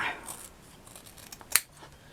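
Scissors make a single close, crisp snip while trimming pink satin for a handmade flower, with faint rustling of the fabric around it in an otherwise quiet room.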